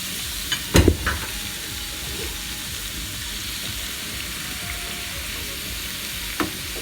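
Pork ribs fry in a pan ahead of oven baking for barbecue, a steady broad sizzle running throughout with a couple of sharp clatters near the start and one near the end, no talking.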